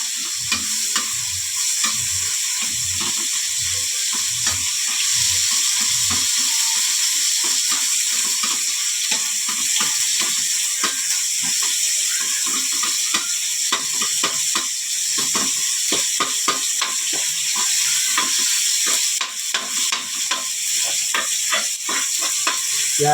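Tomatoes sautéing and being mashed in a pan for mung bean stew with pork bones, a loud continuous sizzle under rhythmic squelching presses and scrapes, first slow and evenly spaced, then faster and busier.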